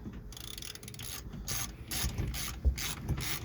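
A hand ratchet fitted with a 7/16 socket turns 1/4-20 bolts while a Teleflex rotary steering unit is replaced on a 1991 Alumaweld Formula Vee boat. It makes close, loud bursts of rapid clicking with short pauses between strokes.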